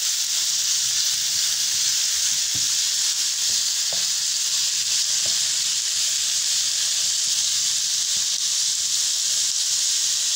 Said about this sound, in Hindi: अब हम इसमें इसको अच्छे तरीके से जो है पकाएंगे ताकि ये बोटी हमारी गल जाए।